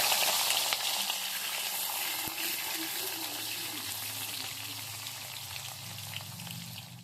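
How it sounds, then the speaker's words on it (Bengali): Bitter gourd pieces frying in hot oil give a constant, close, fizzing sizzle with a faint bubbling texture and a single sharp tap partway through, with no speech. "এবার করলাগুলো ভেজে নিচ্ছি"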